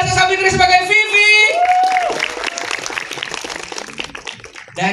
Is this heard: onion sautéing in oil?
no